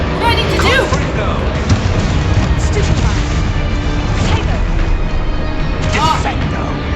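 Loud crashes, booms and cracks sound as a fire explosion spell is cast during combat in a Hogwarts wizarding video game, with dense continuous game noise throughout.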